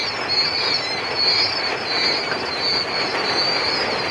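Steady rain falls on a quail farm, a dense, even hiss that stays loud and unbroken for several seconds with no voices over it.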